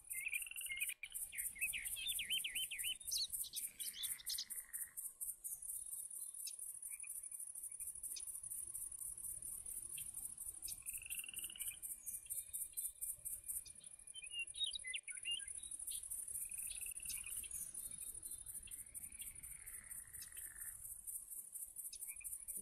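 Frogs and night ambience on a hunting video game map, with repeated croaking and chirping calls in bursts over a constant high insect-like drone, steady and moderately distant.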